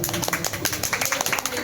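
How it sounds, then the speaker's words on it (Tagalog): An audience claps for Jana at a debut celebration, a quick run of rhythmic hand claps close by, mixed under people talking. "Palakpakan naman para kay Jana."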